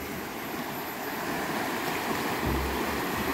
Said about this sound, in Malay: Tadi hujan kejap, air naik terus deras